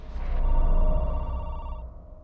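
A telephone rings in a horror video game set in an apartment building, with a steady electronic ring over low ambient rumble and no talking.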